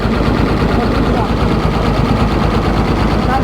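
A Komatsu engine with a knocking fault runs steadily and loudly nearby, a dense rapid chugging rattle that continues without a break.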